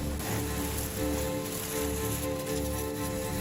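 Water sprays steadily onto an old red farm tractor during washing. A continuous hissing wash keeps a slightly pulsing rhythm, close and moderately loud.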